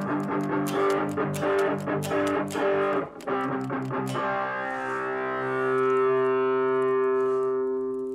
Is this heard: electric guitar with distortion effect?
yes